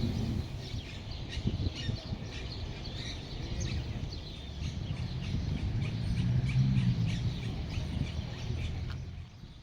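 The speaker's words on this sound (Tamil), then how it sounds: "உங்களுக்கு வீடியோலேயே சிட்டுக்குருவியோட சவுண்ட் கேட்கும்" House sparrows chirp repeatedly in quick, scattered bursts over a low outdoor background hum in Uruguay, fairly faint and somewhat distant.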